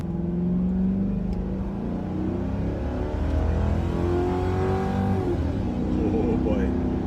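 A Ford Crown Victoria Police Interceptor (P7B) V8 engine revving up steadily, the pitch rising and falling in long sweeps, close and loud, with someone talking over it.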